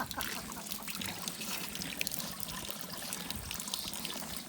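Water streams and trickles steadily from a pilgrims' drinking fountain along the Camino Francés, a continuous close splashing pour with no voices over it.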